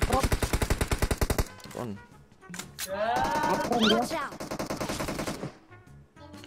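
Rapid automatic gunfire from the video game PUBG rattles in a fast burst at the start, followed by scattered shots and game effects, with a player talking over parts of it.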